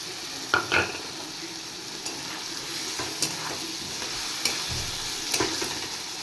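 Chopped large tomato goes into a hot pan of marinated shing fish and starts frying with a steady sizzle, punctuated by a few sharp clinks and scrapes of a utensil against the pan, close by and without speech.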